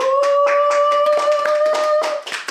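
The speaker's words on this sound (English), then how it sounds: "Round of applause." Close, rhythmic hand claps from a small group, roughly ten sharp beats in a couple of seconds, over a steady sustained tone that runs beneath them.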